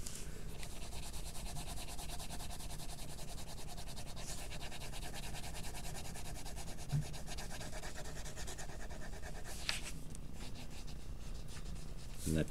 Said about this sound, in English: So I'm just kind of using the side of the pencil,